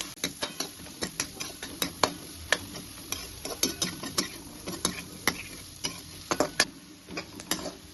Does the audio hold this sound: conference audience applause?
no